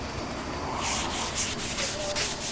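Sandpaper rubs over a wooden bamboo chair in quick, rasping back-and-forth strokes that grow louder and more rhythmic after a quieter opening, close up and alone.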